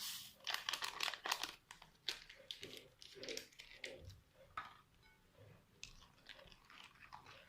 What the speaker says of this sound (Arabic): غندير كيس سكر فاني